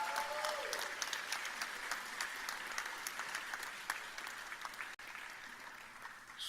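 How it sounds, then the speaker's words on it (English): Audience applause fills a graduation ceremony at a young university, a dense, steady clatter of many hands clapping that carries on for several seconds with only a brief dip near the end. "I think the achievements of this small young university over the last year or so deserves a round of applause from everybody here."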